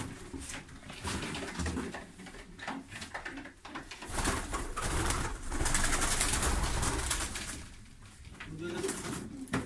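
Pigeons coo steadily at a pigeon club while people talk close by, so the soft birdcalls sit mostly beneath the voices and room noise.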